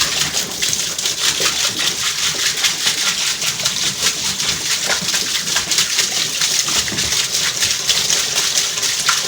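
Steady splashing of water poured directly onto laundry and running, a continuous bright wash of sound with small drips and spatters throughout, no voices.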